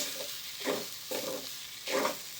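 Gram flour roasting in a pan for green pea kababs, with stirred matar mash: soft rhythmic scraping strokes repeating about every half second over a faint steady sizzle, close and moderately quiet, no voices.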